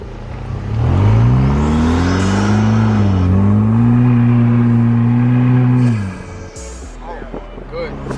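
A tuned 2021 Vanderhall's exhaust roars under hard acceleration, a loud, droning engine note climbing and holding for about five seconds before cutting off, with people talking excitedly around it.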